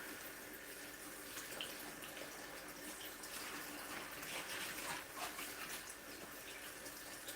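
Collard greens being washed by hand in a sink full of water, soft continuous sloshing and splashing at low volume with no talking.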